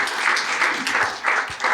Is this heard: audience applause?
yes